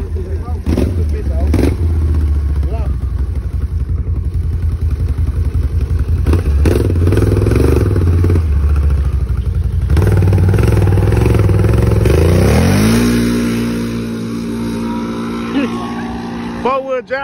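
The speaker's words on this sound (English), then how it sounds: "that four wheel gonna make it go faster" Four-wheeler ATV engine revving hard at a race on a wet road, a loud droning motor that rises in pitch near the end, with people talking over it.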